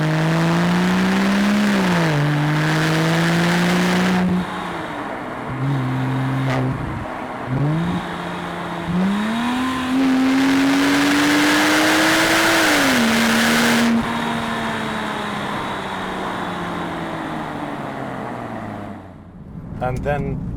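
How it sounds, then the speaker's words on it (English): A Porsche 911 Turbo 997.1 with the Mezger turbocharged engine and sports exhaust in sports mode revs and accelerates close by, its note rising and falling through repeated pulls and gear changes before easing off near the end. "I'll put the sports mode on as well, so you could hear the exhaust note change."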